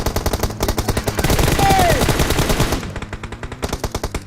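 Rapid automatic gunfire from the video game PUBG Mobile rattles in fast, even bursts close up, with a brief whooshing effect in the middle and slightly sparser shots toward the end.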